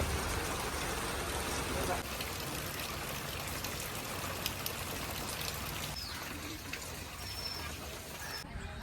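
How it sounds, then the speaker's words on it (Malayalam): Steady, dense rainfall roars without pause over a Kuttanad village, a constant wash of drops pouring down close by. "തകർപ്പ് മഴ നടന്നുകൊണ്ടിരിക്കുകയാണ്"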